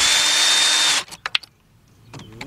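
A power tool runs loudly for about a second while removing 10 mm coil bolts from a 2005 Nissan Pathfinder 4.0, then stops and leaves a few sharp metallic clicks and rattles.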